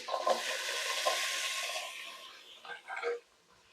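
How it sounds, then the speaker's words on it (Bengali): Potatoes fry in hot oil for a vegetarian soybean curry, a steady close sizzle that fades partway through, followed by a few short stirring scrapes. "প্রথম আমি দিয়ে দিচ্ছি তেল, দিয়ে দিচ্ছি আলু"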